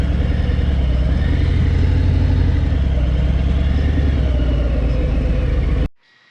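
A motorhome engine runs steadily while the vehicle turns around to park in a backyard, a low, even mid-range drone that cuts off abruptly near the end.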